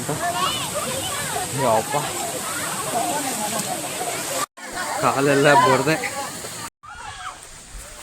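A stream of flowing water rushes with a constant broad hiss, loud and close, running beneath a person talking throughout.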